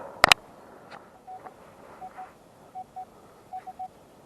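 A Nokta Legend metal detector sounds short, evenly pitched beeps in repeated pairs after a sharp click, fairly quiet against faint outdoor background.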